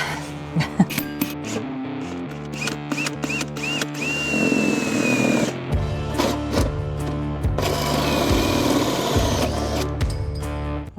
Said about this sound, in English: So let's get this drilled and hope for the best.